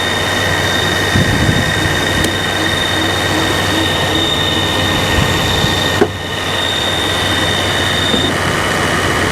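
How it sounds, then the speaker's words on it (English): A shop air compressor runs steadily with a thin, high squeal over its constant mechanical drone, which dips briefly near the end. "Compressor kicked on, squealing a little bit."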